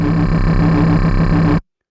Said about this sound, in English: Filter 2 is really just helping provide a little bit of grit.